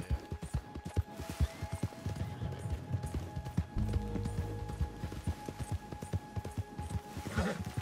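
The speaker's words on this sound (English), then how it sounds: "Got me a goddamn horse." A horse gallops in Red Dead Redemption 2 with rapid, rhythmic hoofbeats, loud and close, joined by brief crashing noises and a faint tonal hum.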